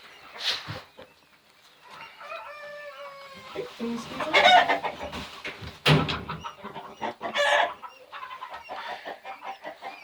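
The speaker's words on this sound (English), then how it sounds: "And so these are the chicks." Quail chicks peep and chirp in a shrill, busy chorus as they are handled and moved into a brooder, with scattered bumps and rustling and some quiet talk in the background.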